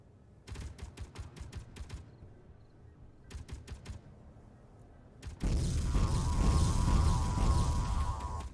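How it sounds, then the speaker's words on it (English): Heavy turret guns in the space game Space Engineers fire in rapid bursts, two clusters of sharp repeated shots, then a dense continuous roar of sustained gunfire and explosions fills the rest. "Big guns are gonna be firing."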